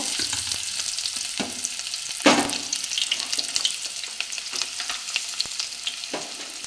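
Onions, with tomatoes added, frying in a pan with cinnamon and spices, a steady broadband sizzle with occasional stirring clatter and one louder burst of hiss; no talking.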